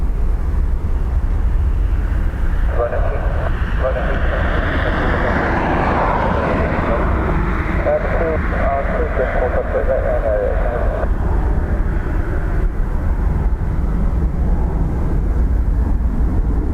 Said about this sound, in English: Another ATR coming for Aer Lingus.